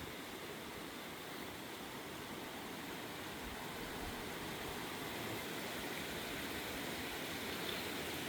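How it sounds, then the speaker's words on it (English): A steady, broadband rush of river water flowing at Elkmont in the Great Smoky Mountains fills the whole clip, even and unbroken, with no voices or other distinct sounds. "get close to the river"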